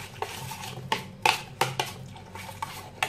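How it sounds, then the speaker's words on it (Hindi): Cheese, spinach and corn are stirred together in a bowl for a spinach corn dressing, a series of close, sharp utensil clinks and scrapes in an uneven rhythm, with no talking. "सो अभी तीनों चीज़ों को मैं अच्छे से मिक्स कर लूंगी."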